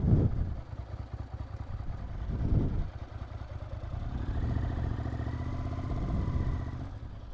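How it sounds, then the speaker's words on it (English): A hot Ducati 900SS ie fuel-injected motorcycle is started: brief cranking bursts, then the engine catches and settles into a steady, lumpy idle, heard close and fairly loud with nobody talking. "One of the advantages of the injected SS over the previous carbureted versions is it does hot start a lot better."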